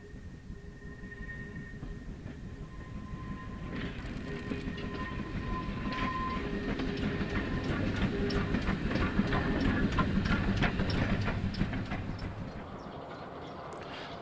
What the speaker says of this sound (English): the ever-popular GWR Auto Trailer number 233, which we see passing Bishop's Bridge Loop, being propelled by Prairie Tank 5526